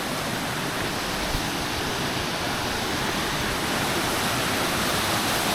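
Clear mountain stream at a free bathing spot in Banay-Banay, Davao Oriental, rushing steadily and loudly, a dense continuous wash of flowing water close by with no voices.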